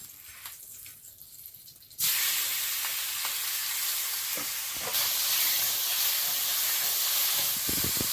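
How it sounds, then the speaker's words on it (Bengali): Prawns hit hot oil in a kadai wok with a sudden loud sizzle after a quiet start, then keep up a steady, bright hissing fry with faint stirring clicks. "আর একটু কড়াই তেল দিয়ে দেবো চিংড়িটা ভেজে নেব"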